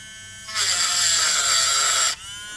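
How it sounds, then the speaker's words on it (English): A Dremel rotary tool grinds off metal swags while replacing a heater blower motor on a Mercedes-Benz W108/109, a loud high whine for about a second and a half, starting and stopping abruptly. "So you got to get out your Dremel and deal with those."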